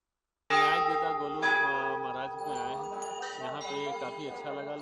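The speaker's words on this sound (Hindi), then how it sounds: "ये मंदिर अपनी तांबे और घंटियों के लिए पहचाना जाता है जो परिसर में लटकी हुई हैं" Copper bells at the Golu Devta temple ring out suddenly after a moment of silence, struck several times in overlapping, resonant peals that keep sustaining and shimmering as they fade slowly.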